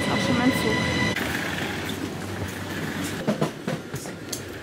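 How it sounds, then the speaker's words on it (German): A train pulls into a station, its rumble and rolling wheels running steadily with a low drone and a few clanks near the end, under faint background noise. "Und da ist auch schon mein Zug."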